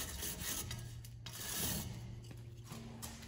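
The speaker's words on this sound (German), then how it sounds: "Dann der nächste Arbeitsschritt ist mit der Edelstahldrahtbürste" A stainless steel wire brush scrubs welded studs on metal parts in a workshop, producing short rasping strokes with a harsh scratchy texture, close and moderately quiet.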